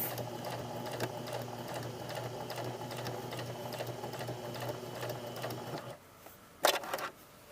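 A sewing machine stitches a lined patch pocket in a fast, steady hum of needle strokes for about six seconds, then stops, followed by a short burst of handling clatter.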